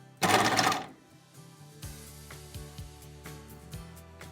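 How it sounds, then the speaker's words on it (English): A sewing machine stitches fabric ruffles in short quiet bursts of mechanical ticking, after a loud brief rustle at the start, with soft clicks spaced across the clip. "I've literally just sewn a little bit on this side and a little bit under there"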